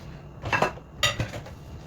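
Dishes and cutlery clink and clatter in two short bursts while being washed, close by, with quiet in between and no voices.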